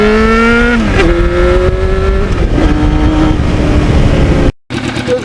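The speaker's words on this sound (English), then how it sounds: "I like the sound of this muffler, even though it's a little loud." A 1991 Yamaha FZR 1000 motorcycle with an Evil Twin exhaust muffler, loud and close, revving up with rising and falling engine pitch, then a brief cut-out before the engine picks up again.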